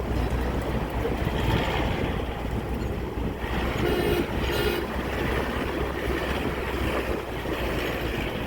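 Train running along a track in the snowy hills near Shimla and Kufri, a steady close rumble with rhythmic clatter of wheels, continuous and fairly loud throughout.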